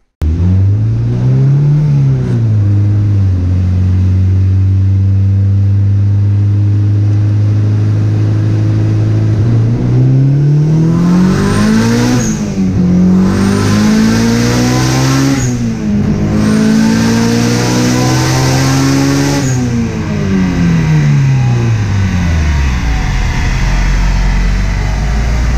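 A tuned car engine revving hard on a dyno, climbing through the gears in repeated long pulls with a drop in pitch at each shift, loud and close with no talking.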